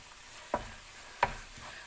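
A spoon scrapes and stirs ginger and garlic paste in a hot pan with ghee, two distinct close scraping knocks over a low, faint sizzle, no voices.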